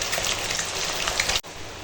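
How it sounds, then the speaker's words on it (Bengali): Steady, dense hiss of rain falling, continuous and fairly close, cutting off abruptly near the end. "বাইরে বৃষ্টি হচ্ছে"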